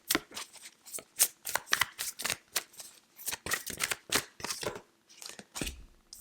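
Tarot cards are shuffled and drawn, giving close, papery riffles, snaps and slides in irregular bursts, with brief pauses between the card movements.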